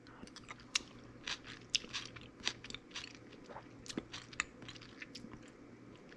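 Someone chews a taste of freshly made tomatillo salsa, soft crunchy bites and mouth sounds repeating irregularly, close but quiet, with no talking.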